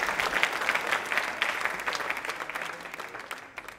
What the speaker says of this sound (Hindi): तालियां तो जोरों से बजती रहनी चाहिए